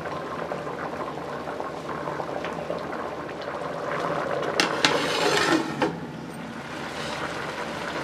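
Water simmering away in a pot of potato rice pulao, a steady bubbling and crackling boil with a brief louder hissing surge near the middle, close and alone.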